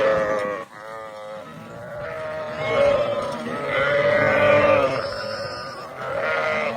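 Several sheep bleat close by in long, wavering, overlapping calls that rise and fall in loudness over a low grunting background.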